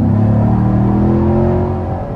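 A stock 2019 Chevrolet Camaro SS with a 6.2-liter V8 rumbles close by in a steady deep idle or light rev, its low engine tone holding steady before easing off slightly near the end.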